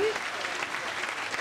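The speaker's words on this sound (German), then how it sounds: "Und einen Applaus für Katja Hofmann" Audience applause at a German poetry slam, a steady wash of clapping from a crowd following a performer's score, sustained and even throughout with a host's voice faintly present.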